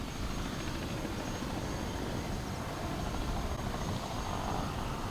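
A helicopter thrums steadily from start to finish over the Hardangervidda mountain plateau in Norway, a continuous rotor and engine roar with no pauses.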